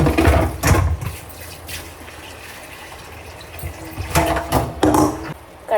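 Copper kadhai being washed with water at home: splashing and running water with clanks and scrapes of the metal wok, in a few loud bursts separated by quieter rinsing.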